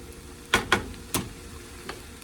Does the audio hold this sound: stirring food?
yes